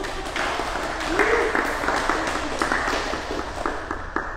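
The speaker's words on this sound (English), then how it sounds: "We can give them a round of applause." An audience breaks into applause for a newly engaged couple, a rising wash of clapping that swells and holds, with some voices mingled in.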